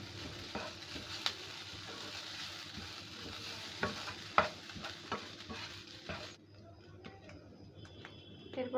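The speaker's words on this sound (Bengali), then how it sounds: "এটা এবার 1 থেকে 2 মিনিট ভেজে নেব" Boned rohu fish fingers fry quietly in a pan, a faint hissing sizzle punctuated by scattered clicks and taps, the sizzle dropping away in the last couple of seconds.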